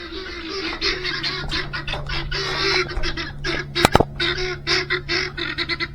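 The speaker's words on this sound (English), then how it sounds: "Don't mind the guinea hens. They're just very nosy." Guinea hens calling around a rural spring house, a busy, continuous chatter of harsh cackling calls throughout, fairly close, with one sharp louder burst near the middle.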